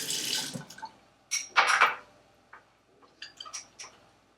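Water being added to a fondant paste and mixed for a football helmet cake, with a short pour followed by scattered wet splashes, drips and scrapes, close and fairly quiet.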